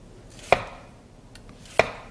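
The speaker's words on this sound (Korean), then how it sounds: "적당한 사이즈로 채를 썰어 주시고요." An onion is sliced into thin strips with a knife, two crisp chops landing on a cutting board about a second apart, close and clear with no talk.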